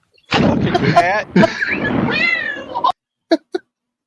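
A cat yowls in a long, wavering meow close by, followed by a few short sharp knocks after it falls silent.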